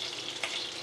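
Sliced ridge gourd and pointed gourd with a pinch of five-spice seeds get stirred in a hot pan for Bengali shukto, giving a steady soft sizzle with one brief scrape of the spatula, close and quiet with no talking.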